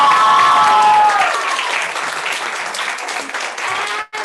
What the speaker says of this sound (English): can we just like a round of applause for all of these girls?